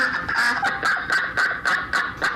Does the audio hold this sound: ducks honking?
yes